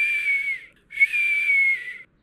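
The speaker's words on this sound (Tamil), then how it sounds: "விசில் அடிக்க தெரியுமா?" A person whistles two long, steady high notes, the first lasting about half a second and the second a little longer after a brief gap. Both notes are clear and close, with no talking.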